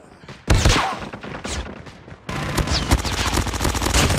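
Rapid sentry gun fire against enemies in Call of Duty Mobile, dense automatic bursts that start abruptly and continue loud and steady alongside other in-game gunfire.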